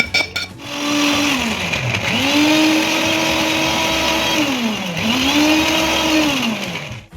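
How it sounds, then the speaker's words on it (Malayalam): A mixer grinder whirs loudly while grinding masala into paste for butter chicken gravy, its motor pitch rising and dipping twice as the blades cycle, running continuously for several seconds. "നമ്മൾ റെഡിയാക്കിയ മസാല മിക്സി ജാറിലേക്ക് ഇട്ട് നല്ല രീതിയിൽ ഗ്രൈൻഡ് ചെയ്തെടുക്കാം നമുക്ക്."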